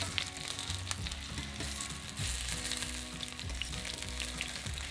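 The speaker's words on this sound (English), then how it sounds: "Now turn the potatoes over, reduce the heat to medium-high and cook for a further 5 to 6 minutes until golden brown." Potatoes fry in a pan after being turned over, making a dense, even sizzle that holds steady and close throughout, with no speech.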